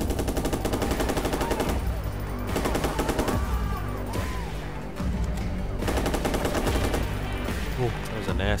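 Rapid bursts of gunfire from the video game Watch_Dogs, with repeated machine-gun volleys separated by short lulls and mixed with game sound effects, loud and busy throughout.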